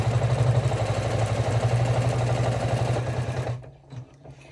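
An embroidery machine stitches a small fabric mini wallet in the hoop, a rapid, even mechanical chatter close by that runs steadily for a few seconds and then stops abruptly, with no talking.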